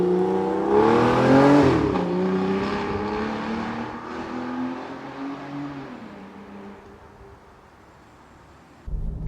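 An Aston Martin Virage Volante engine swells in a loud rev near the start, then its drone settles and fades away as the car pulls off in the late afternoon, with a brief noise burst at the end.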